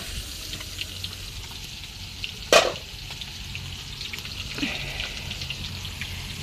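Fish shallow-frying in an oil pan that held okra the day before, a soft continuous sizzle near at hand, broken by one sharp clatter and a later faint knock, with no talking.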